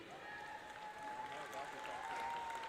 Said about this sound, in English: I'd like to give a great round of applause to the Air Force Academy swimming class of